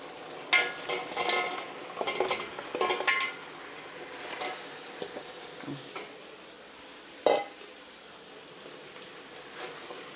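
A soft sizzle and simmer in a pot as beef is added for kaldereta, with scraping and clinking as it is stirred in. Brief knocks stand out, and one sharp clank comes near the end.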